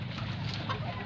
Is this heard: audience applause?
no